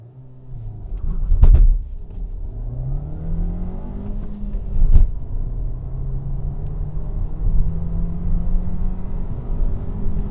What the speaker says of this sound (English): So let's accelerate now, so you will be able to see how it picks up the speed.